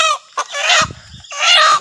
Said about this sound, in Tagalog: Ayan na, nahuli na namin yung manok.